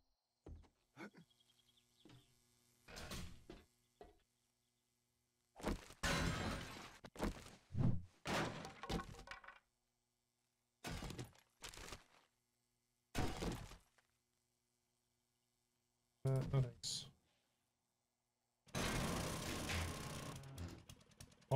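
In the video game 7 Days to Die, an auger drills in repeated short bursts separated by silence, each a harsh grinding crunch, with a longer burst at the end.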